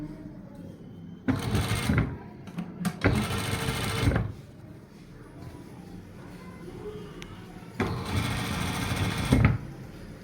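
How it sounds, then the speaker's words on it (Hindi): A sewing machine stitches along the edge of a shirt cuff in two short bursts and one later burst. Each is a close, rapid mechanical whir separated by quieter pauses with fabric handling. "अब जहाँ ये कफ है इसके किनारे पर सिलाई आए नीचे।"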